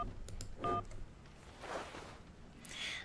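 Touch-tone telephone keys are pressed in the video game Syberia, giving a few short, faint dialing beeps spaced apart over a quiet background.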